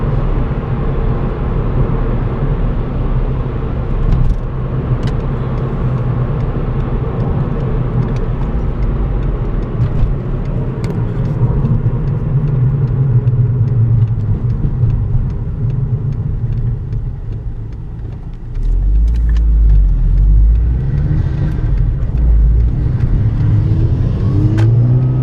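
A VW MK5 with a cold air intake revs at higher RPM, its engine droning and rising in steady, loud pulls with intake roar, then dipping briefly before climbing again, heard close up throughout.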